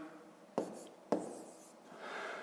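Pen strokes on paper while working a Ukrainian fifth-grade decimal subtraction exercise: two sharp taps, then a soft continuous scratch of handwriting, close and quiet with no talk.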